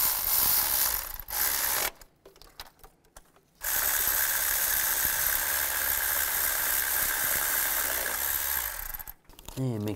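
Ratchet tightening the bolt and nut on the starter of a 2002-2009 Chevy Trailblazer, with fast, loud continuous clicking up close, broken by a short pause.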